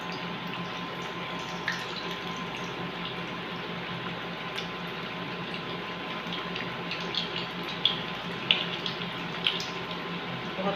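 Potato cutlets shallow fry in oil, a steady, even sizzling hiss running throughout with occasional faint pops, close and moderately loud, with no talking.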